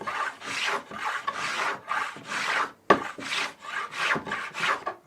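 A hand plane shaves a wooden spar for a model Thames sailing barge, with about ten even rasping strokes in a steady back-and-forth rhythm, close and fairly loud, broken by one sharp knock midway.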